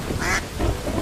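Little ducklings lost from their mother give a short burst of close, nasal quacking calls, two clustered bursts within about a second against a steady background rush.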